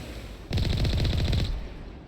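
Turrets in the Mass Effect video game fire at Rachni in a rapid one-second burst of automatic gunfire that stands out loudly over a quieter background.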